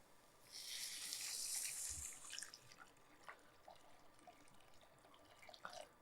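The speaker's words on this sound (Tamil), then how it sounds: "இப்போ கொஞ்சம் தண்ணி சேர்த்துலாம்" Water poured into a pot of Arabic noodle soup on the stove, a close splashing pour lasting about two seconds, then faint drips and small trickles before quiet.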